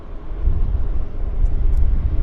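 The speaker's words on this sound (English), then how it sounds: "There's a United taxiing out as well for us." A United airliner taxiing at Vancouver airport gives a loud, steady low rumble with wind-buffeted roar, close and continuous throughout.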